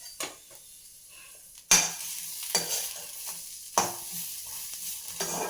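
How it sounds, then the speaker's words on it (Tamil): Grated coconut is dry-roasted without ghee in a metal kadai, with a spoon scraping and stirring in several sharp, repeated strokes over a soft, steady sizzle, close and clear with no talk. "இப்போ அதே போல் தேங்காயையும் கடாயில் போட்டு 2 பரட்டு எடுத்துக்கிறேன்."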